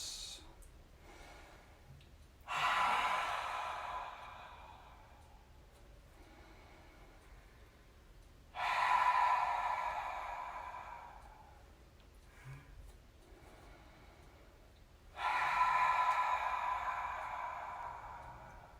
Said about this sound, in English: Cleansing breaths.